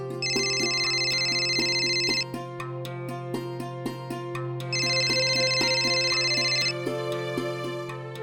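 A telephone rings after a call is placed, two long electronic ring bursts separated by a pause, heard over a faint ticking, steady background hum.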